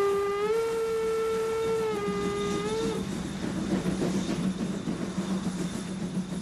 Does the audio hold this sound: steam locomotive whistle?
yes